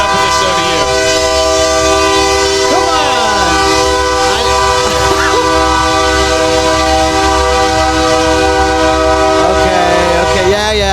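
A voice imitates a train with a long, sustained horn-like tone that holds steadily and loudly for several seconds, rich in harmonics and close to the microphone.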